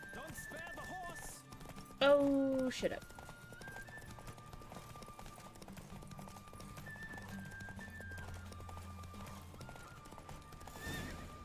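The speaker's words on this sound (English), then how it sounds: "Don't spare the horse." Horse hooves and neighing during a horse race in The Witcher 3, with a sharp whinny near the start, steady game ambience and music throughout, and a voice speaking briefly.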